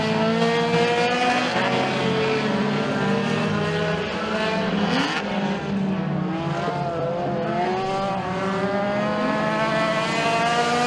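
A pack of race cars roars away at the start of a heat at Stateline Speedway, engines revving and droning loudly together, rising and shifting pitch as they accelerate.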